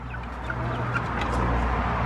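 Chickens cluck softly nearby in short, scattered calls over a low steady background hum.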